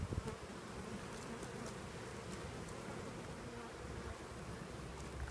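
Honey bees swarm busily around a PolyHive beehive on a sunny day, a faint steady buzzing hum with occasional louder passes of individual bees near the microphone.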